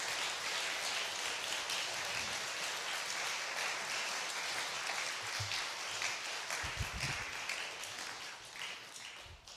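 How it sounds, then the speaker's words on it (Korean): A church congregation at a Korean Wednesday night worship service applauds to welcome the pastor, steady sustained clapping that tapers off toward the end. "목사님 나오실 때 우리 박수로 환영할까요?"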